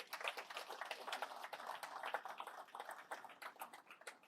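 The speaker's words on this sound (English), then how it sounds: "So please give a warm applause to Jason." Applause from a small audience at the Global First Nations Carbon Summit, with distinct individual claps forming an uneven, lively patter rather than a dense roar, close and fairly clear throughout.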